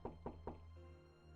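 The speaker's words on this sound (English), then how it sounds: "A knock." Three quick knocks on a door in the adventure game Emerald City Confidential, close and evenly spaced, followed by a low ambient hum with no one speaking.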